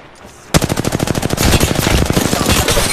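Automatic gunfire in the Apex Legends video game: one sudden burst of rapid, loud, closely spaced shots that runs without a break for more than two seconds after a quiet start.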